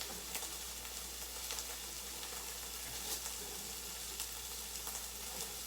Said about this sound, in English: While my onions are just cooking down a little bit in there